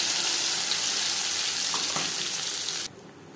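Water used to rinse a mixer jar is poured into a pan of mustard spice paste for a bhetki fish curry, producing a loud, steady sizzling rush that cuts off abruptly near the end.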